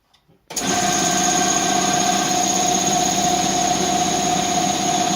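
A repaired Chevrolet Lacetti engine turns over after a short quiet pause, catches at once and settles into a steady, close idle with a whining, even drone.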